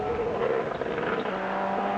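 A 1998 rally car, steam leaking from its side, drives a special stage at the Bulldog Rally, its engine roaring with a hint of tire noise, steady and moderately close, with no voices.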